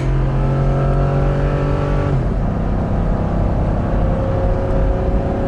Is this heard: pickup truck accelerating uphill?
yes